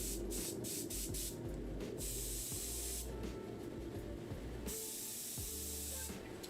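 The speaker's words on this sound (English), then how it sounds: "I think this is the first time I've seen you use an airbrush" An airbrush sprays paint onto a Warhammer miniature in steady bursts of hiss with short pauses between them, close and fairly loud, with no talking.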